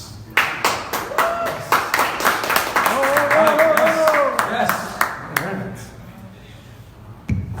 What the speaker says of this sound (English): big round of applause for, of course, Mr. Rey Perez